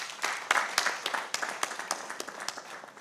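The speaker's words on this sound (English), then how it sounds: "I would really call that we put a round of applause together" Audience at an annual conference AGM applauds, a steady patter of many hands clapping with irregular louder claps standing out, moderately close, with no talk over it.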